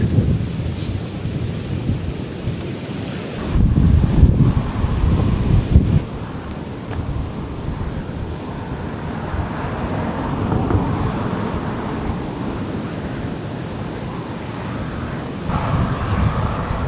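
Strong wind buffets the microphone during a winter walk along the River Wear, a continuous loud rumbling roar with heavier gusts around the middle and near the end, and no voices.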